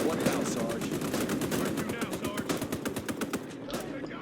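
Continuous automatic gunfire in the World War II video game Gates of Hell, rapid steady shots at fairly close range that rattle on without a pause for several seconds.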